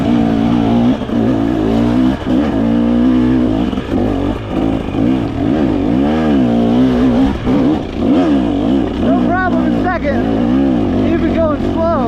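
A 2023 KTM 300XC two-stroke dirt bike pulls away from a start in second gear on a trail, its engine loud and close, revving and rising and falling in pitch over a continuous drone.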